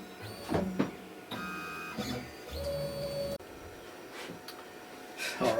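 A CNC router homes its axes in a workshop, with stepper motors sending out several separate whining and buzzing runs of movement, each a second or two long with short pauses between, fairly close and moderately loud.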